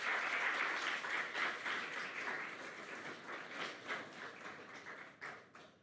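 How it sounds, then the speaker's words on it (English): An audience at a Boys & Girls Clubs recognition gala applauds in a hall, with steady, fairly faint crowd clapping that holds for several seconds and then fades into a few scattered claps. "give them a round of applause"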